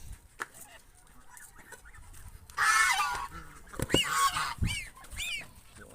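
Geese honk loudly and nearby in a burst of harsh, repeated calls that break out after a quieter start, with scattered rustling and knocks around them.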